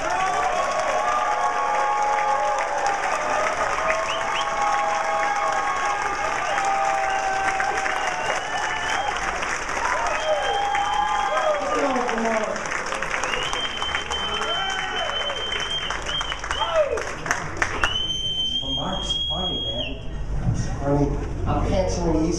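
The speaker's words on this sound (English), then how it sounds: "Come on, clap, make some noise." Comedy club crowd applauds and cheers for a comedian taking the stage, dense and loud throughout, with whoops and music-like tones rising over the clapping and a voice talking briefly near the end.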